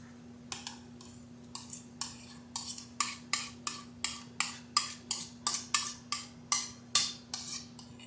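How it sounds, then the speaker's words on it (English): Ripe bananas being mashed in a bowl for strawberry banana bread, a quiet, steady series of about twenty rhythmic utensil clicks and squishes against the bowl, close up, with a low background hum. "we're going to take about 3 medium bananas and mash them up, ripe bananas"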